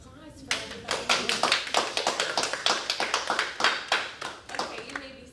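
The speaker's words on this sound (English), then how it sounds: "I think a round of applause for everybody." Scattered hand claps from a small audience at a 2021 National Technical Honor Society ceremony, a steady run of sharp, close claps lasting several seconds with no talk over them.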